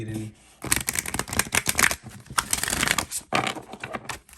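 Oracle cards from the Whispers of Lord Ganesha deck being shuffled and pulled, a close, busy stream of crisp riffling and flicking that runs almost continuously, pausing briefly partway through.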